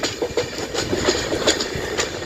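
Darjeeling Mail train rolling on the Haldibari–Sealdah route, its wheels beating a steady, close clickety-clack rhythm over rail joints with a continuous rumble throughout.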